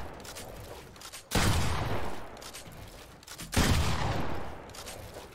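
Two loud, booming pump shotgun blasts in a video game go off a couple of seconds apart, each followed by a fading rumble.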